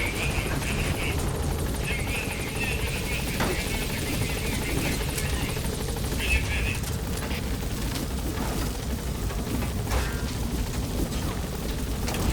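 A steady, loud helicopter drone with rotor chop fills the scene as the Pequod hovers over a landing zone in Metal Gear Solid V, with faint game effects and brief voice snatches underneath.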